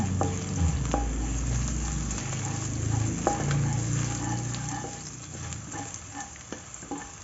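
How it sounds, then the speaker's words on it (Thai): Garlic stir-frying in a little oil in a wok, a steady sizzle with light scraping stirs and occasional utensil taps throughout, close and moderately loud with no talking. "แล้วเราก็มาเอากระเทียมลงไปผัดให้หอม"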